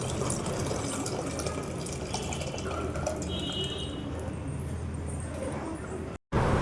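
Tamarind water pours into a pan of village-style fish curry, a continuous splashing, trickling liquid sound close by, with a brief dropout just before the end, with no voices.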